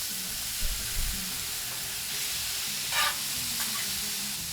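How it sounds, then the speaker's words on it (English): Fajita vegetables and a jalapeño sizzle on a hot griddle, a steady loud crackling hiss with a few brief scraping stirs and soft knocks. "This sizzle good enough for you guys"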